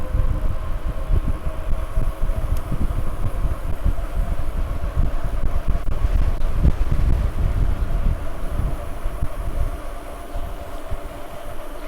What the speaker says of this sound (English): Another really windy day today.